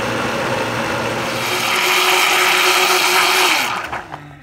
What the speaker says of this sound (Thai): ปุ๋ยเปลือกกล้วยครั้งนี้นะคะแม่ก้อยจะปั่นให้ละเอียดนะคะ